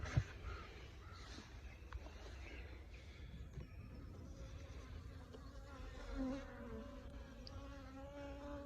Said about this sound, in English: A few bees flying around.